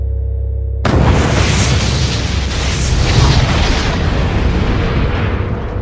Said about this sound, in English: Two atomic bombs created by the United States to end the Second World War.